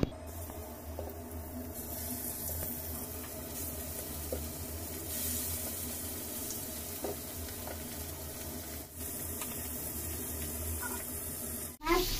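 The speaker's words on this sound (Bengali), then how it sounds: "এখন আমি মাছ ভাজবো" Fish fries in a pan with a continuous bright sizzle and crackle, accompanied by occasional soft clinks of utensils and a sharp clatter near the end.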